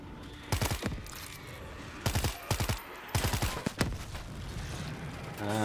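In World War Z: Aftermath, gas cylinders go off as clustered rapid bursts of sharp blasts at several points, with quieter crackling and gunfire in the gaps between them.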